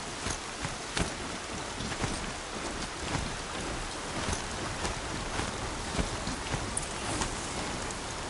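Heavy rain pours steadily in Horizon Zero Dawn, a dense continuous hiss with scattered drops and spatters tapping throughout, close and unbroken with no talking.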